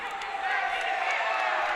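Crowd at a kickboxing bout roaring and cheering in a steady, dense wash of noise for a moment.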